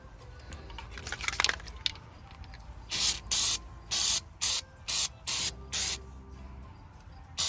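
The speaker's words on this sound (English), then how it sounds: "I'm gonna spray some of this rust check around the edges" Short bursts of aerosol rust inhibitor spray hiss around a car's headlight openings, about seven quick squirts in a row after some faint handling noise, close and loud.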